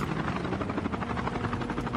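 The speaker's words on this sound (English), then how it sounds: "And they're taking the helicopter to get around." A helicopter in the Call of Duty: Mobile video game gives off a steady, loud rotor chop, a continuous throbbing roar with no talk over it.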